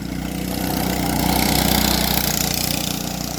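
A Coleman CT200 minibike's small engine runs at part throttle, a steady buzzing drone that swells slightly mid-way, fairly loud and close, with no voices.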